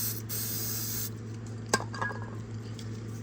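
Silicone sprayed into a hose during an amateur hose repair gives a steady, fairly loud hiss for about a second. It cuts off abruptly, then a few small clicks and handling sounds follow in a quiet room.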